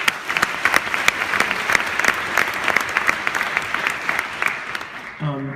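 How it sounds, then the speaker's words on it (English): Audience applause at a film presentation, a steady dense wash of clapping across the whole stretch that thins out at the very end as a voice begins to speak. "So please give them a round of applause"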